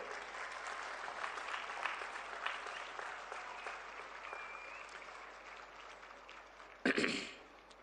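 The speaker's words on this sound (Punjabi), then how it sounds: "ਆਪ ਹੀ ਤਾੜੀ ਮਾਰ ਲਓ ਇੱਕ ਵਾਰੀ" An audience claps together at a school scholarship event, a dense, steady round of applause that fades gradually, followed by a brief sharp cough or throat-clearing near the end.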